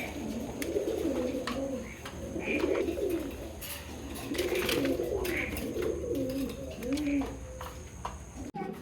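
A large male Rajshahi Giribaz pigeon coos in a small cage, giving repeated rolling, throaty calls in close rhythmic bursts, near and clear, with a faint voice in the background.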